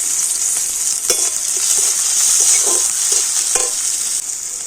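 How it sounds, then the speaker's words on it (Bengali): Chopped onion fries in hot oil with a dried red chilli and bay leaves, a loud continuous close sizzle broken by several short stirring clinks and scrapes, with no voices. "এখন আমি পেঁয়াজ আর রসুনটা একটু ভালো করে ভেজে নেব"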